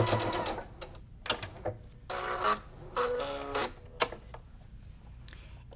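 A sewing machine stitches a quilt block for a Friendship Star variation in short bursts separated by pauses, its motor whirring and needle clattering close by with no talking.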